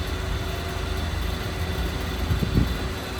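A car engine idles steadily at a fuel pump during refuelling, a constant low rumble with no pauses and a few faint knocks near the end.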